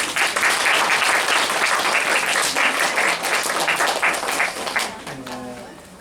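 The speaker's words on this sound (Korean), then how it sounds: "최문순 자매님 박수로 생일을 축하하겠습니다." A church congregation bursts into sustained applause to celebrate a member's birthday, dense clapping filling the room before tapering off as a voice begins speaking near the end.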